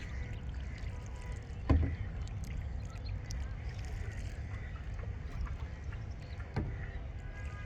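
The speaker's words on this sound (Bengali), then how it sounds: "আমি আর আমিন আজকে দিয়াবাড়ি লেকে বোট চালাচ্ছি" Oars dip and splash at a slow pace as a boat is rowed on Diabari Lake, Uttara, Dhaka, over a steady wind rumble, with two louder knocks against the boat.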